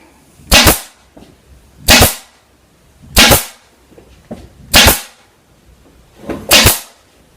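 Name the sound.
staple gun stapling batting onto a cornice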